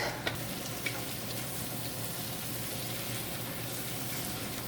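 Sliced kikiam sautéing in a pan for a Filipino pansit guisado, a continuous even sizzle held close and steady throughout with a couple of faint ticks at the start, no talking.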